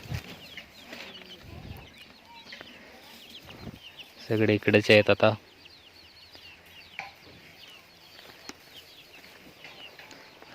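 Free-range village chickens in a netted compound cluck and squawk in a short loud burst, with softer clucks scattered around and a person talking nearby throughout.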